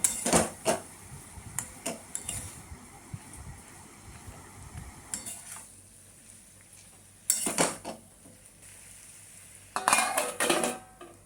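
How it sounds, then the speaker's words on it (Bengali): A spoon stirs turmeric powder and spices into a potato and onion mixture in a cooking pot for masala tofu, giving intermittent clinks and scrapes against the metal with quiet gaps between bursts. "চিনির পরে আমি এখানে 1 চামচ হলুদ গুঁড়ো দিয়ে দিলাম, দিয়ে আবার একটু ভালো করে মিশ্রণটাকে নাড়িয়ে নেব।"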